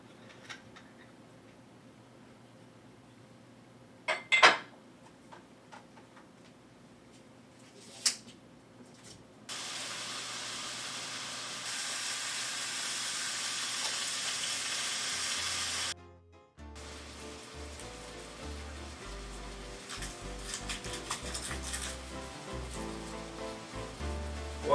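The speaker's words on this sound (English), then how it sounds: "turn the pan on, get some oil in this pan, and get this meat browning up" Beef sizzles as it browns in hot oil in a pan for a Moroccan-style beef and apricot dish, a loud, steady hiss rising after a few faint knocks, briefly dropping out, then sizzling on.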